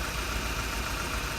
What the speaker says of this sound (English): I will stop and then